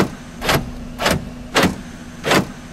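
Car door locks actuate four times in a steady sequence, each a brief mechanical clunk about half a second apart, close by inside a used car's cabin with a faint hum underneath.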